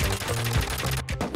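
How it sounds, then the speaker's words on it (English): An automatic turret in the game Rust fires dense bursts of rapid gunfire, loud and continuous, with brief gaps between the volleys. "This turret has to go, man. It's just killing everyone."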